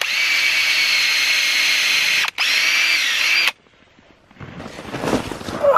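A cordless drill bores into a frozen maple trunk for sap taps, a loud steady whine with a brief stop midway, then it cuts out, followed by faint rustling and handling noise outdoors in deep snow.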